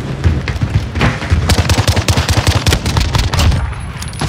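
Rapid automatic gunfire and bursts of shots in Call of Duty Modern Warfare, loud and close, with dense rhythmic reports running almost continuously.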